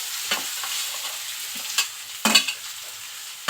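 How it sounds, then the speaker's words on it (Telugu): Onions for a palak paneer curry with cashews and drumstick go into a pan, where a soft sizzle runs under several sharp, irregular scrapes of a spoon stirring them. "ఇప్పుడైతే ఉల్లిపాయలు అయితే వేసుకోవడం జరుగుతుంది"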